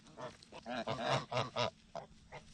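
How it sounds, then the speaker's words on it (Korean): Agitated geese on a farm honk repeatedly, with a close run of about eight harsh nasal calls in quick, uneven succession and no other sound. "닭들이 평화롭게 배추를 먹고 있는 지금 거위들은 화가 나는지 계속해서 소리를 지른다."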